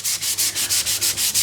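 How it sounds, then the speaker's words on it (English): Raw lumber for a custom range hood sanded with the grain, a close, loud rhythmic rasp of evenly spaced strokes, about five per second, with no talking. "now I'm going to go ahead and start sanding this in the direction that I want to finish this product"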